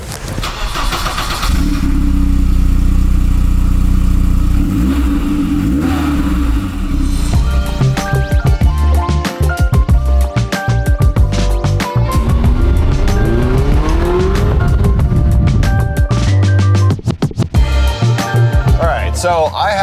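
A BMW E30 M3 revs and drives on the road, the engine loud and near with rising and falling pitch through gear changes, running continuously under occasional talk.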